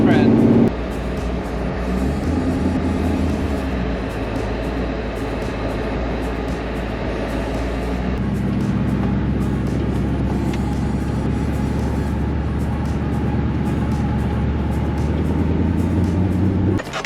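A heavy Mercedes-AMG SLS GT3 race car rumbles steadily through traffic, its loud, continuous low engine drone holding throughout with a slight shift in tone midway.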